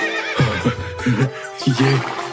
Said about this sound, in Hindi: जब उन्होंने घोड़े को देखा तो जोर जोर से वो हिनहिनाने लगा